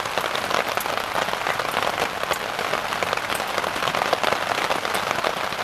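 Rain falling in a forest at a campsite, a dense steady patter of drops on surfaces, close and continuous with no talking.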